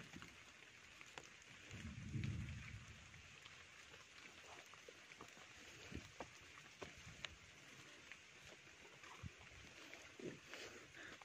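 Steady rain falling on a steep, slippery uphill trail, a soft continuous patter with scattered nearby drops and a brief low rumble, heard fairly quietly throughout.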